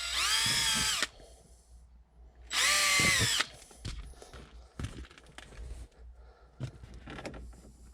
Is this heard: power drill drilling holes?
yes